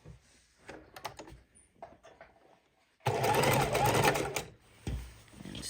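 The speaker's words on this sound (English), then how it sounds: "sew a single row to our double row" A sewing machine runs in one loud, fast, steady burst of stitching for about a second and a half as quilt rows are sewn together, framed by softer fabric handling and a voice before and after.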